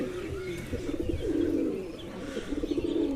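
Pigeons on a rooftop coo in a steady low murmur, one bird chasing another from the loft, with soft flutters and rising, throbbing phrases nearby.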